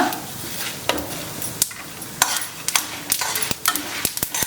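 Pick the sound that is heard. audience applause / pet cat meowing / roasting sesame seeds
roasting sesame seeds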